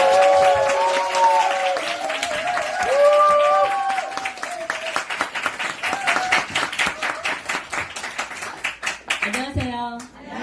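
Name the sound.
audience applause and cheering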